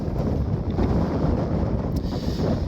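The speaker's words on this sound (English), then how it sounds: "pardon any wind noise. It is kind of breezy" Breezy Texas Panhandle wind buffets the microphone with a continuous low rumbling roar that swells and dips, loud and close, with no voices.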